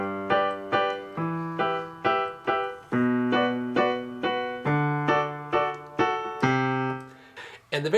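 Piano chords repeat in a steady rhythm with a deep low bass note under each, every strike decaying before the next; no talking.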